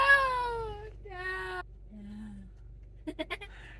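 Goats bleating loudly and repeatedly in a barn near a hay shelf as children wrangle them, a long wavering cry followed by shorter bleats and a brief low call, with quick scuffling clatter at the end.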